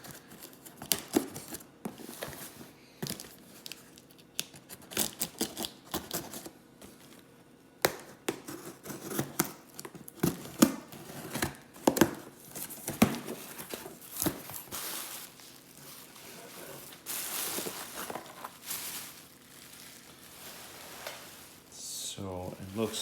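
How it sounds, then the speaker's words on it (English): Taped returned parcel being opened by hand: scattered crackles, tape rips and cardboard rustles at close range, with louder tearing toward the end and some talking. "So now we're gonna open the parcel as returned to us today."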